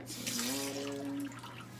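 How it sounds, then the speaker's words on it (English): Water runs from a tap into a cup for making slime, a steady soft hiss with a rising gurgling tone as the cup fills, heard alone and fairly quiet. "So I'm just gonna add some water."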